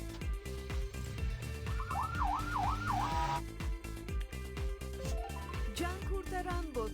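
Wailing police car siren from a kids' car repair video game, rising and falling in a cartoonish wail over upbeat game music, loud and close, briefly sounding before the music carries on.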